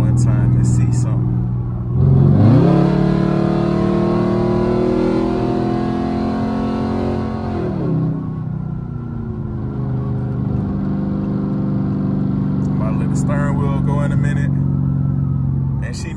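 A Dodge Charger SRT8, brought to a shop for a shaking problem at speed, revs hard with a loud, rising engine roar for several seconds before settling back to a steady rumble, with voices nearby.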